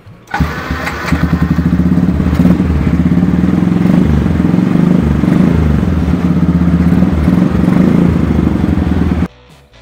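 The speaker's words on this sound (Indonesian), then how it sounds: "ini knalpotnya karena ini knalpot racing, ya tetap ada suaranya ya" A Yamaha Byson motorcycle with a racing exhaust idles loudly and steadily up close, a deep throaty drone with a brief rev near the start, running nearly the whole time.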